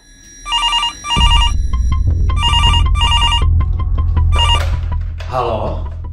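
A telephone rings in repeated bursts of a bright electronic trill, loud and close, with music or background sound running underneath and a voice joining near the end.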